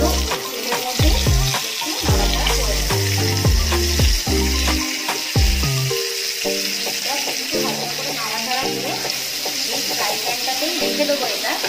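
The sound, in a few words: onions and capsicum frying in oil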